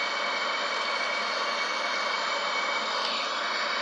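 A small airplane's engine drones steadily in flight, heard from inside the aircraft during stall and roll training manoeuvres, a constant broadband roar with no breaks and no talk.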